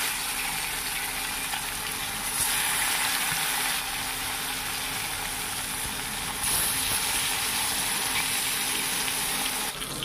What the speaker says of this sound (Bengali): তো এখন আমি একে একে মাছগুলি তেলের মধ্যে দিয়ে ভালো করে ভেজে তুলে নেব